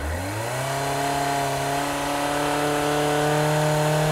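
A motorcycle engine revs up quickly to 5,000 RPM and then holds a loud, steady high-pitched drone, close and continuous throughout.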